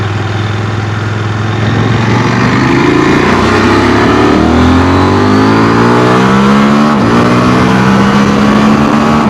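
A CFMOTO 1000MT-X motorcycle accelerating hard, its engine note climbing steadily through the revs, with quick-shifter gear changes briefly dipping the pitch before it climbs again, loud and close throughout.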